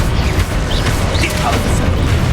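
A Confringo spell explosion in Hogwarts Legacy bursts out as a loud booming blast, rumbling and crashing over dense game effects and layered noise.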